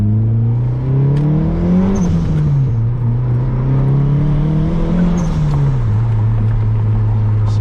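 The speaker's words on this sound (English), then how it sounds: "Alright, so y'all listen to this beautiful turbo noises." A turbocharged 2G DSM car engine revs up with a whooshing turbo character, pitch climbing twice in long sweeps, loud and close with no talking.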